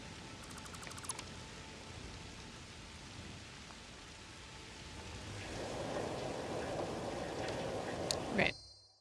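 Steady, dense rain pours onto a roof in the Satisfactory factory-building game, a continuous hiss that swells louder toward the end, with faint beeps and clicks of the game interface over it.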